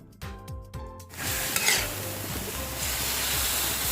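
Pork liver stir-frying with garlic and pepper in a pan: a few metallic scrapes of a spatula, then a loud, dense, continuous sizzle close by, with no talking.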